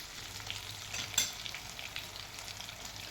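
Stuffed capsicum fries in a pan with a steady close sizzle and one sharper crackle partway through. No voices.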